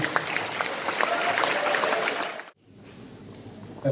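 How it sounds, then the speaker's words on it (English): Audience applause for the participants of an inter-college debate competition on AI at Sazolie College in Jotsoma, Nagaland: a dense, steady burst of clapping from a hall crowd that cuts off abruptly midway, leaving quieter room tone. "Give a big round of applause to all the participants."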